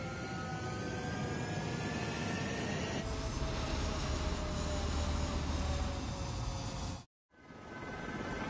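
A military aircraft squadron roars down a runway in a video game, a dense continuous jet rumble that swells after a few seconds, drops out abruptly to near silence, then returns.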